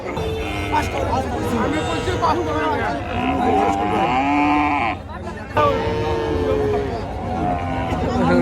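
Friesian dairy cows low and moo amid a busy crowd, with people talking and murmuring all around at a cattle market in Muktagacha, Mymensingh, Bangladesh.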